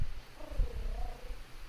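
A cat purrs in the video game Nioh 2: a soft, brief, close purr with a faint tonal hum rising in the middle, alone with no talking.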